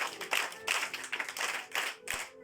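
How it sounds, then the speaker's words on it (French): Several clusters of handclaps from a small group of children, bursting in uneven waves over a couple of seconds, moderately close in a room. "Jésus, acclamez pour lui."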